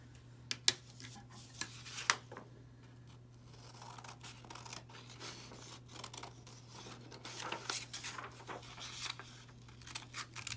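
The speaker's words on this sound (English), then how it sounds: "and then I'm going to cut that out." Scissors snip through paper while a rectangle is cut out for first-grade scratch board art, with a few sharp close clicks early on and softer, quieter snipping and rustling afterward, alone with no talk.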